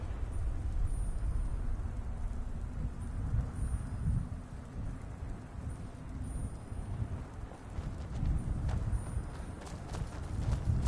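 A horse gallops in the video game Skyrim, a steady rhythmic run of hoofbeats over a low rumbling, wind-like bed that continues evenly for about eleven seconds with no voices.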